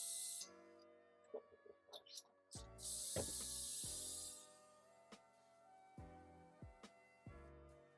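Soft clicks and short hissing bursts, then a longer steady hiss of an Iwata Eclipse HP-BS airbrush spraying water to clear out paint, followed by more faint clicking.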